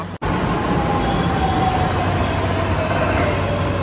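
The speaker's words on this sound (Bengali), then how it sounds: "দেখতে দেখতে আমাদের মেট্রো চলে এসছে।" A metro train rolls into the station with a loud, continuous rumble and a rising-falling whine, filling the space without any voices.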